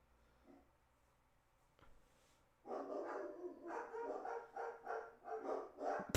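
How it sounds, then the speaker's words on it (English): Several dogs bark in a steady, overlapping chorus, fairly loud, after a quiet stretch at the start. "what are they barking at?"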